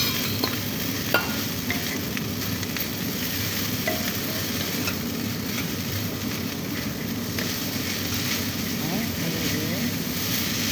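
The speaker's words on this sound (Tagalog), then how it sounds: "Haluin." Glass noodles coated in soy sauce stir-fried in a pan, a steady close sizzle with scraping stir sounds running throughout.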